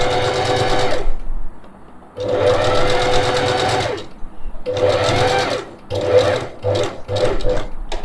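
A sewing machine stitches fabric for a face mask in short bursts of rapid mechanical whirring, separated by brief pauses, the final stretch broken into quicker stop-start runs.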